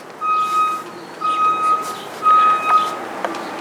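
Reversing beeps from a delivery truck on a street: three evenly spaced, steady electronic tones, loud and clear over faint vehicle rumble, with no talking.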